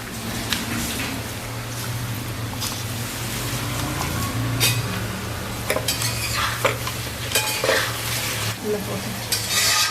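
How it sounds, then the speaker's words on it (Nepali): Hands knead a kilogram of raw ground meat mixed with salt and crushed black pepper into a salami mixture: continuous close, wet squelching and stirring with some faint clinks of a bowl, no talking. "यो मिक्सचरलाई चाहिँ मुस्ने"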